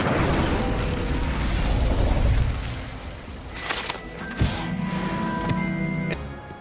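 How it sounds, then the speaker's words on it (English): The Incendio fire spell from Hogwarts Legacy goes off as a loud, rushing burst of flame. It fades into quieter crackles, clicks and mechanical rattles, with no talk. "He will light this on fire. Incendio."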